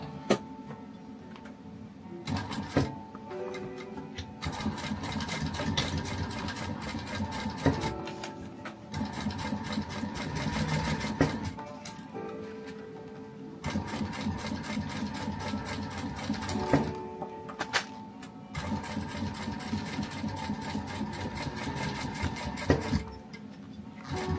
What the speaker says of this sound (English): I'm just going to top stitch across there, so we have a nice finished edge